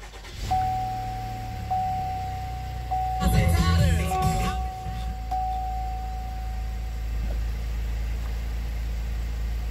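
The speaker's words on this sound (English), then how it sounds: "All you have to do is put your foot on the brake and hit the button to go." A 2018 GMC Acadia SLT starts with a push button: a thin electronic chime sounds repeatedly, a short loud burst of cranking comes mid-clip, then a low steady idle rumbles on beneath a talking voice.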